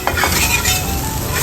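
Egg-soaked French toast made with milk sizzles loudly and steadily in a frying pan, with a couple of soft scraping knocks from a utensil near the start; no talking.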